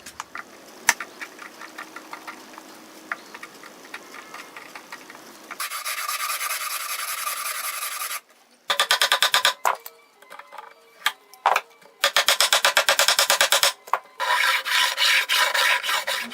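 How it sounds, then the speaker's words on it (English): Scraping chipped, loose lacquer along the side edges of a Martin D18 acoustic guitar, a dry rasping scrape in bursts of repeated strokes with brief pauses between, close and fairly loud with no talking. "scraped away the chipped and loose lacquer along the sides of the edges"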